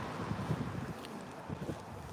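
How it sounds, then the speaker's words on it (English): Wind outdoors in Alaska in spring, a short spell of faint gusty buffeting against the microphone, with low rumbling puffs. "It's kind of windy today."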